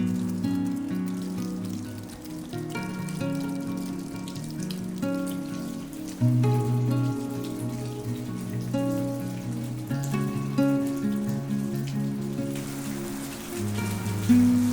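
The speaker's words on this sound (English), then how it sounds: "It started raining later that night" Rain falls at night outside a mountain lodge in Alberta, a soft, steady patter heard faintly and continuously beneath sustained musical tones.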